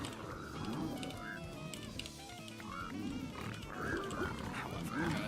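Pigs oinking in a video game, repeated grunting snorts rising and falling over a busy, continuous game soundscape, moderately loud throughout.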